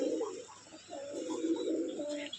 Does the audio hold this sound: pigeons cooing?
yes